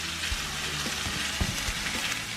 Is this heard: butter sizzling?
yes